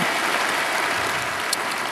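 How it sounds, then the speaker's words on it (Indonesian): A church audience gives dense, steady applause that holds at an even, fairly loud level throughout, with no talk over it. "Berikan tepuk tangan kita untuk Tuhan kita."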